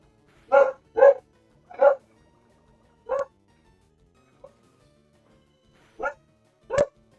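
Barking dogs in Pokémon LeafGreen game audio: seven short, sharp barks at irregular intervals, clear and alone with no talking.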